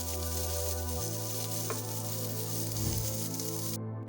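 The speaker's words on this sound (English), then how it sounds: "Using a pan, sauté the meat until well cooked." Pork sautéing in a pan gives a steady, loud sizzle and frying hiss throughout, with a faint stir or scrape partway through and no talking.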